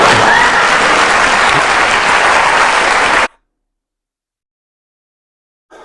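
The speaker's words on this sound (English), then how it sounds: "Just look at the crowd just going crazy, practically giving him a standing ovation for his argument." Dense, loud audience applause for an argument, continuous clapping and crowd noise for about three seconds before cutting abruptly to silence.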